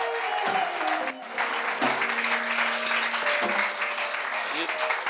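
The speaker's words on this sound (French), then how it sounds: "Vos acclamations" A church congregation at an Easter evangelistic conference applauds and cheers steadily and loudly, with a voice and sustained tones running over the clapping throughout.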